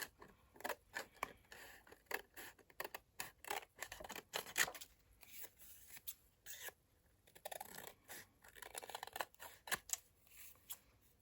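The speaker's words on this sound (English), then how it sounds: "I'm going to bring in my long scissors, and I rest the blade against the cardstock, so then I can" Long scissors snip through cardstock in a quick series of crisp, close cuts, with brief pauses between strokes while a faux vintage paper tag is trimmed.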